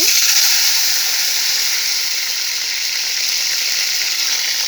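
Water hits fried onions in a hot pan, a loud hissing sizzle right away that settles into a steady, bright bubbling fizz.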